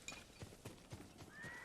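A horse in the video game Ghost of Tsushima clip-clops in a few soft hoof steps and gives a brief whinny, quiet and close.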